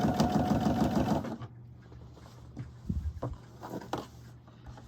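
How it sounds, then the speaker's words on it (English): A sewing machine stitches through four layers of velvet fabric with a fast, close mechanical chatter for over a second, then stops, leaving faint handling knocks and a low hum. "You can probably tell by the way the machine sounds that I am sewing through 4 layers of fabric."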